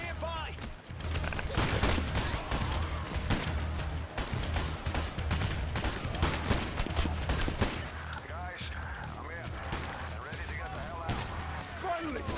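Gunfire from a shooter game, with rapid broadband bursts and repeated shots running through most of the stretch amid busy game noise. It is loud and close, and a voice talks over part of it.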